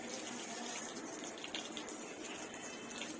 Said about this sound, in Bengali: একা একা এসে তারপর কল চালিয়ে আবার পা হাত পা ধুচ্ছে